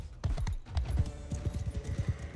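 Horses' hooves clip-clop in a battle in the video game Mount and Blade Bannerlord, a busy, irregular run of close hoofbeats with no talk over them.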